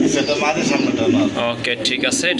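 Pigeons of a matching colour coo softly in a pigeon market, their low murmurs running under near, continuous talk.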